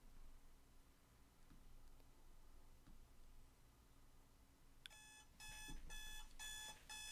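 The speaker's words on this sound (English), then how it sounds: "that's just my timer that's telling me how long we've been on the live stream" A live-stream timer alarm starts beeping partway through, a rapid electronic pulsing in several short bursts, fairly clear over a quiet, faintly noisy room.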